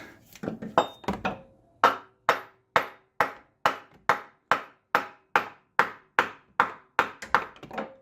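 Repeated hammer blows on metal, about two per second in a steady rhythm, close and sharp, each strike ringing briefly, as a part is driven into a 4Motion front differential.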